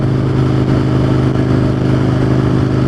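An Aprilia motorcycle engine runs on a cold day with snow about, a loud steady rumbling drone with a fast pulsing beat close by, holding an even pace throughout without talking.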